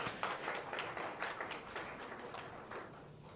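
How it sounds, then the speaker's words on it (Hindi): Audience applause at a real estate presentation, a short burst of clapping from a crowd at moderate distance that holds for a few seconds and slowly thins. "आप लोगों को सबसे पहले अपने लिए एक बार जोरदार तालियां बजानी चाहिए"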